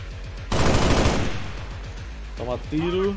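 A burst of rapid gunfire in XCOM 2: War of the Chosen, loud and close, followed by brief electronic effects and a short voice.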